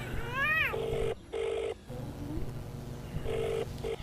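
A phone call rings out as a repeated electronic ringback tone in short, evenly spaced bursts with gaps between them, preceded by a brief rising warble.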